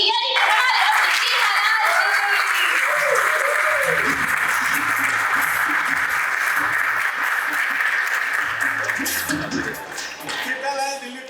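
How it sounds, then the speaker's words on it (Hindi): A big audience at an anniversary celebration event for a Hindi TV comedy show applauds loudly and continuously, with cheering voices and music-like tones over the clapping, fading slightly near the end. "उनके लिए जोरदार तालियां हो जाए।"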